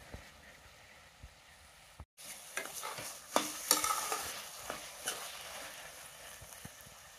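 Pumpkin pieces frying in ghee in a pan and being stirred, a steady soft sizzle broken by scraping stirs and a brief clatter, close and alone with no talk.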